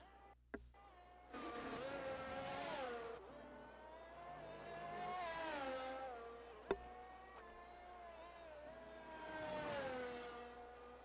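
A Formula 1 race car in F1 22 laps the Italy circuit, its high engine whine rising and falling through repeated gear shifts and revs, with brief clicks between pushes.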